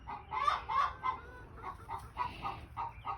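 Several hens cluck in a rhythmic series of short calls inside a chicken coop, close and fairly soft, with no talk.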